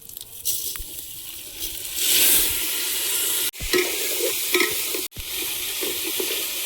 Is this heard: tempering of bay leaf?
yes